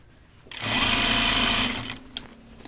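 A sewing machine runs a half-inch seam along a pajama cuff in one short, close burst of whirring stitches, then stops to quiet.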